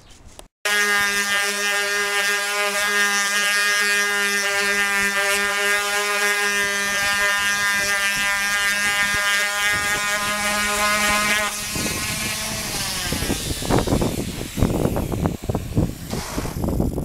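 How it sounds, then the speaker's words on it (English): Sanding clear-coated stickers off a Suzuki RG250 Walter Wolf fairing with a power sander makes a steady, close, droning mechanical whine that holds for several seconds before breaking into rougher scraping bursts and uneven clatter toward the end. "They basically just have to be sanded off."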